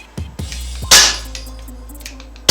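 A Umarex T.A.C. Converter .177 caliber air gun fires two sharp, close cracks about a second and a half apart, with mechanical clicks and a faint hum between them.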